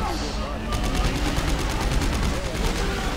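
Rapid automatic gunfire from the video game Dead Space 3 rattles on without pause, loud and dense, forming a continuous rhythmic burst across the whole stretch.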